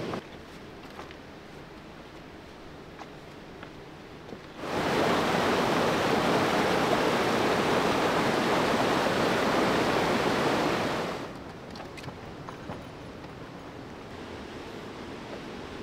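A waterfall beside a steep canyon portage in the Temagami wilderness roars as a broad, steady rush that swells up close for about six seconds, with quieter flowing water before and after.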